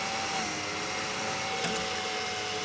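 A small 60mm Cooler Master fan running inside a PC case, giving a loud, steady whirring drone with a faint whine that holds evenly throughout, no voices over it.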